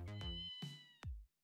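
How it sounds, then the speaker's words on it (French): Two clear meows from a cat in the video game Ghost Trick, close and loud, heard alone with no voices over them. "Oh, un miaou."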